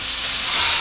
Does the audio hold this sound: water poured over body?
no